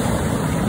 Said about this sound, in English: Listen to that sound that the waves make after they crash and then they pull through.